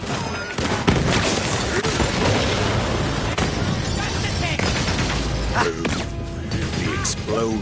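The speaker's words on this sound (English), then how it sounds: "The explosion echoed through the forest" Bomb blasts go off in the Borderlands 3 game forest against devil riders, dense booming crashes and thuds layered with music and game effects. A narrator's voice runs over them.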